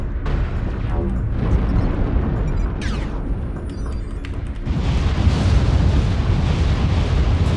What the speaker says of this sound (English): There's a Jaeger with an artillery strike